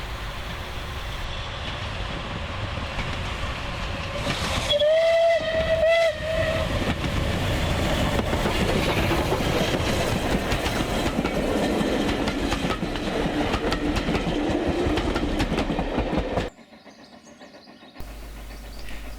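The steam locomotive City of Wells hauls a southbound train past, with a loud whistle blast early on, then heavy rumbling and clattering wheels over the rails that drop off sharply near the end.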